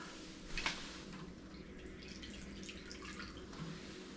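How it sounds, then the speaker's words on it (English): Half a cup of water goes into a gluten-free biscuit mixture in a bowl, a faint, steady pour with a brief louder splash near the start and nobody talking. "So I'm going to add another 1/2 cup of water."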